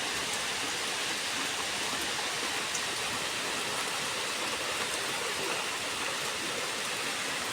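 Heavy rain pours down steadily in a dense, even hiss that stays loud and unbroken throughout, with no voices.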